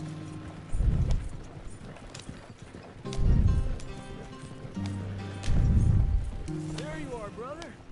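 Horse hooves clip-clop in a video game. Three separate bursts of hoofbeats come at a walking pace, close and fairly loud, over game music, with a voice speaking in the background.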